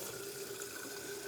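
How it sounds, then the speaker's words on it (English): Filtered water pours steadily from a tap into a jar of broccoli seeds topped with a stainless steel mesh lid, a continuous close rushing with no voices. "And we fill it up with water."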